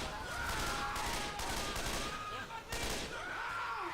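Gunfire in Left 4 Dead 2, rapid bursts of shots in quick succession with brief gaps between volleys, fairly loud and steady, with a voice faintly underneath.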